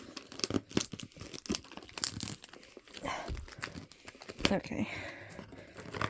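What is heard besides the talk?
slicing through manga package wrapping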